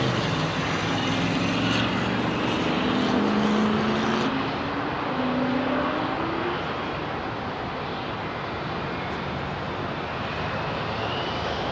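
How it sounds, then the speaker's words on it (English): A United Boeing 767 airliner at London Heathrow Airport gives a steady, broad jet roar throughout, loudest early on and then holding level, with no voices. "Nice United 767 coming on."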